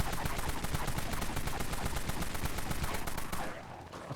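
An XAK-47 in Dead Frontier fires a rapid, loud continuous burst of automatic gunfire, evenly paced shots that stop abruptly near the end.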